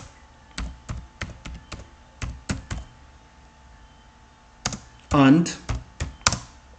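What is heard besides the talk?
typing on a computer keyboard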